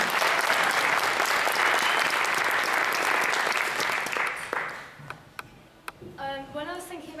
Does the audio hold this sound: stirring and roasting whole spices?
no